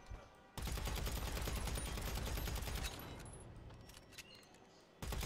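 Rapid automatic gunfire in GTA 5 at a petrol station rattles loud and close for about two and a half seconds, then trails off into scattered shots and a final burst.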